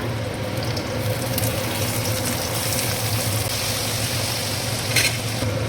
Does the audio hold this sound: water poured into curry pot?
yes